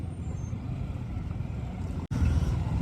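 Road traffic on a drive from Pune to Nashik: a steady low rumble of cars, trucks and buses nearby, broken by a brief dropout before resuming, with no clear talk.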